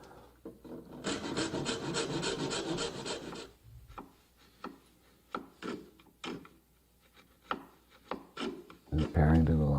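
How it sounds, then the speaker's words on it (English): A hand saw cuts oak for a box joint, first with a fast, steady rasping of rapid strokes, then with slower, separate strokes, each one crisp and close. "And again, sawing just shy of the line."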